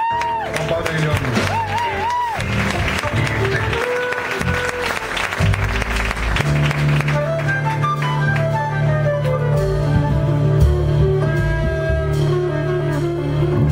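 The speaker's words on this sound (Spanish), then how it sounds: "Fuerte aplauso una vez más." A festival audience breaks into loud, sustained applause with scattered whoops and cheers, a dense crowd of clapping hands that continues throughout, with a voice speaking over it early on.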